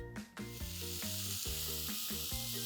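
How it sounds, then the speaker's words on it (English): Chopped onion, garlic and ginger fry in hot oil, a steady close sizzle with occasional stirring scrapes, no voices. "Cook the onions till they are nice and brown."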